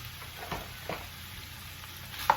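Frozen food browning in a pan, a low steady sizzle broken by a few stirring scrapes and a sharp clink near the end, heard up close with no talking.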